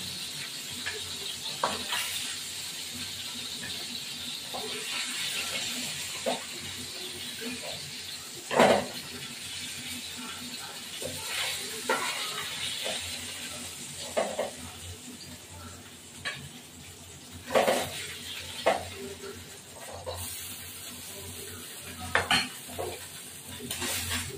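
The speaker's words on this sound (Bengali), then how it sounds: "এবার মাছগুলো উঠিয়ে দেবো।" Fish frying in hot oil in a home kitchen pan, a steady soft sizzle with intermittent scraping and clinks of a spatula against the pan as the pieces are lifted out, someone speaking now and then.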